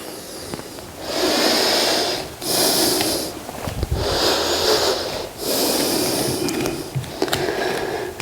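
Long, breathy exhales from a person doing meditative yoga, several slow breaths in a loose rhythm, each a soft rushing hiss lasting a second or more, close and without speech.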